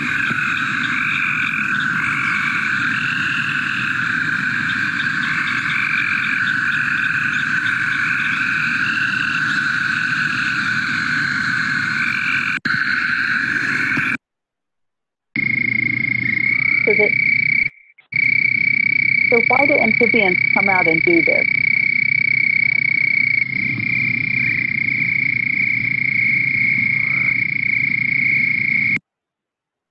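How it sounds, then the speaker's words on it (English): A dense chorus of several frog species calls from a pond at night in April after heavy rain, with steady trilling and overlapping croaks nearby. It continues through short gaps, and a voice speaks briefly partway through. "what you're getting a taste of when you have an experience like going to a frog pond"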